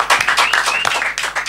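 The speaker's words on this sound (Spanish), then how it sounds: "Fuerte aplauso para él." Audience applause for a band's bass player on a drum television programme, a loud close burst of uneven clapping from a small crowd lasting the whole short moment.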